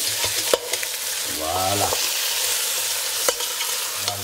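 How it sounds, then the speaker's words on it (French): Chicken stirred and frying in a pan with golden onions for a curry, a steady sizzle running throughout with spoon scrapes and knocks against the pan. A brief spoken word sits over the cooking. "On jette le poulet dans la casserole dès que les oignons sont à peu près dorés. Et on vient remuer le poulet."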